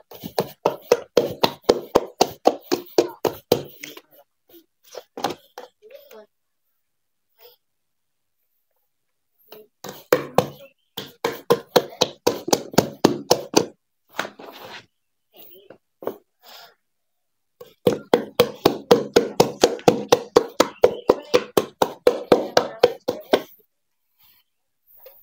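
Dough kneaded and worked hard by hand for a small food business, producing long runs of rapid, steady slapping thuds in three bursts separated by short pauses.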